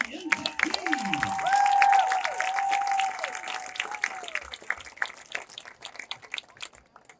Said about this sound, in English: how about a nice round of applause for all of our newest NCS Hall of Fame inductees